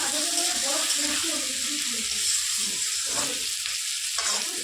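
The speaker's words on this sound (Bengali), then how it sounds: "এটাকে একটু ভেজে নিচ্ছি আমি" Onions and garlic fry in a pan with a continuous, fairly loud sizzle while a person talks over it.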